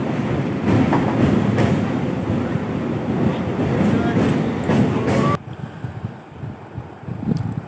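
A train rumbles steadily across a bridge over water, with a continuous loud roll and faint rhythmic clatter, then shifts to a quieter cabin interior near the end.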